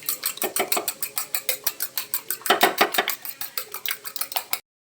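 Three eggs are mixed vigorously, a rapid, even beat of metal striking dishware about four times a second, loud and close, running steadily before stopping abruptly.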